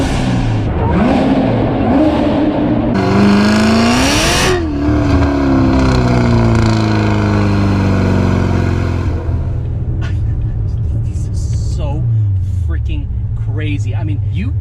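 A Chevrolet Corvette C7 Z06 engine revs hard and accelerates inside a tunnel, its roaring note climbing and shifting through gears, loud and close, with the echo of the enclosed space around it, then settling into a lower rumble while someone talks.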